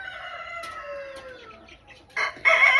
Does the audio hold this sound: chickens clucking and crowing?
yes